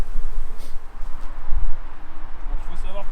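Honeybees buzz around the entrances of their hives at an apiary where swarms are being settled. The soft, steady hum stays under a man's nearby speech.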